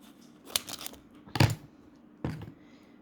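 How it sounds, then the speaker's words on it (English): Scissors snipping through a fake tattoo sticker sheet, a few quick crisp cutting bursts close by and fairly quiet, with pauses between them and no talk. "Let me just cut that off."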